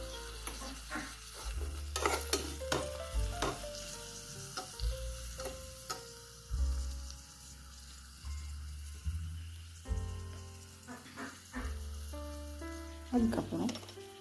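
Vegetables sautéing in a tiny miniature kitchen pan for veg biryani, a soft steady sizzle broken by repeated scrapes and taps of stirring, with background music running throughout.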